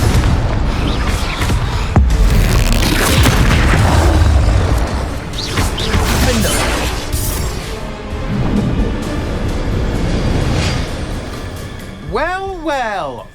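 A Confringo fire spell explodes in Hogwarts Legacy, a loud sustained fiery boom and roar rumbling for several seconds, fading into crackling debris, with a rising magical whoosh near the end.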